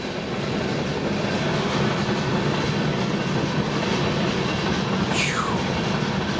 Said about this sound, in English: we caught the train here